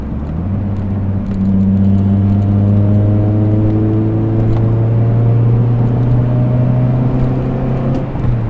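Car engine revving up in a smooth, steady climb during a clutch downshift, loud and close with a sustained rising drone and no talking.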